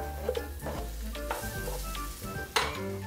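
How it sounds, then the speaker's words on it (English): Spam sizzles as it toasts in a frying pan for kimchi fried rice, a steady crackling hiss broken by a few scrapes and taps of a utensil, one sharper clack near the end. "I'll add the Spam first so that I can toast the Spam a little bit"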